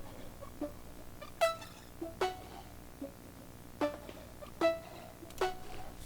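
A Phase Plant custom reverb patch with decay turned fully down, chorus on and a slapback delay, heard as a string of short plucked tones, each with a quick delayed echo, spaced irregularly at moderate level.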